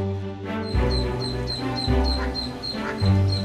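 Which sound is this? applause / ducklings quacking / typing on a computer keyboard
ducklings quacking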